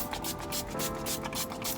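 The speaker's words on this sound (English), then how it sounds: "So now what I'm going to do is I'm actually going to apply my setting spray." Makeup setting spray, an all-nighter formula, misted in short bursts inside a car, giving a steady close hiss with faint pulsing over low background rumble.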